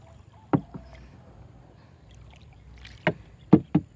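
A rowboat is paddled on the flooded Yom River, with a few distinct paddle knocks and splashes spaced apart over quiet, faint background water and wind.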